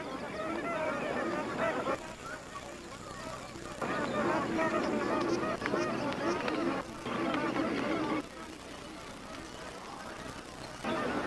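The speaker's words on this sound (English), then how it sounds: "These magpie geese are searching for tender aquatic plants" A large flock of magpie geese, gathered in their thousands at shrinking pools, keeps up a dense babble of honking calls, loud and continuous with surges and brief lulls, under a narrator's voice.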